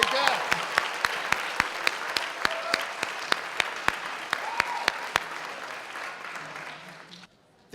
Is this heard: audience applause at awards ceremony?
yes